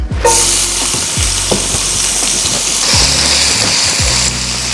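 Oil sizzles loudly in a pan holding lobster drippings, a bright continuous hiss broken by occasional scraping and clinks from a utensil against the pan.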